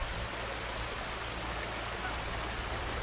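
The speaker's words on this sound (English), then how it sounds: "it's quite a bit of water coming out there today" Water pours out from under a track on Wissler Run as a steady, full rushing wash with no pauses, close by and unbroken throughout.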